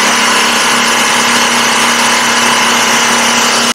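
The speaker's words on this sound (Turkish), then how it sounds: "Önce lastik havasını tamamlayalım." An air pump inflates the tire of a Kingsong S22 Pro electric unicycle, running as a loud, steady mechanical drone with a constant whine that stops abruptly at the end.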